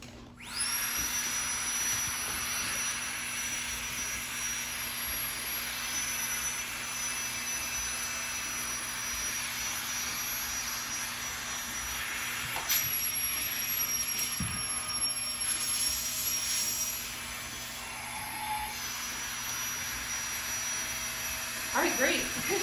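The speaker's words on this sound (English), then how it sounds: "take my Flex Tail Tiny and go to the top here and begin to inflate" A Flextail Tiny electric pump inflates a sleeping pad with a steady high-pitched whirring hum that stays close and constant for over twenty seconds, with a few faint knocks and handling noises along the way.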